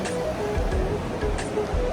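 Rushing water from an indoor waterfall in a Dubai shopping mall makes a broad, steady roar. Faint crowd murmur sits in the large space behind it.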